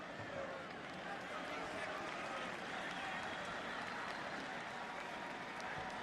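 A big stadium crowd roars steadily at a 2005 Virginia Tech home football game against Miami. The dense, continuous wash of cheering stays loud and even throughout.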